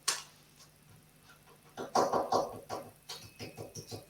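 Loose, lifted wood veneer on a piece of vintage furniture is tapped in a few quick rounds. The knocks sound hollow and slightly rattly, close up and fairly quiet.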